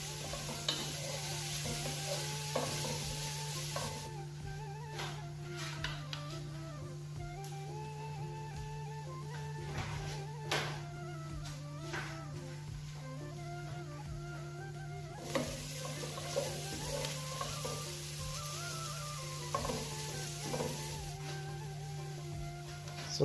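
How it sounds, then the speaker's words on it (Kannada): Onion with crushed ginger and garlic frying in a pan, a steady close sizzle with occasional stirring scrapes and clicks, a constant low hum underneath, no talking. "ಈರುಳ್ಳಿ ಎಲ್ಲ ಸ್ವಲ್ಪ ಫ್ರೈ ಆದ ನಂತರ ಶುಂಠಿ ಬೆಳ್ಳುಳ್ಳಿ ಪೇಸ್ಟ್ ಹಾಕಬೇಕು"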